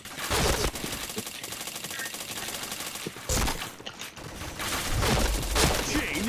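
Rapid automatic gunfire bursts and single shots from a shooter video game, loud and close, with sharp crackling volleys starting and stopping across the clip over game sounds.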